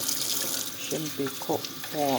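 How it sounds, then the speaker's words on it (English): Tap water running into a plant pot, a continuous hissing stream under a voice speaking briefly. "Then I'm going to fill this pot up with water."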